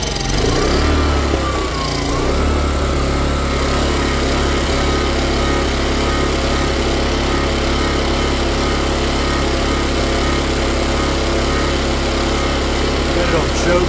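A gasoline generator that had failed to start catches and runs on choke, its engine droning loud, close and steady throughout with a slight dip near the start.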